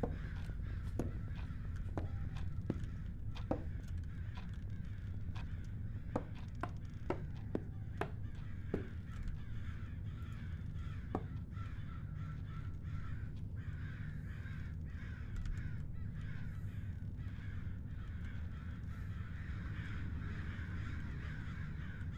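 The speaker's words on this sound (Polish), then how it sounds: "No słyszę ptaki." Crows caw repeatedly in the video game Summer of '58, a string of sharp, fairly distant calls spaced irregularly over a steady low ambient hum, thinning out toward the end.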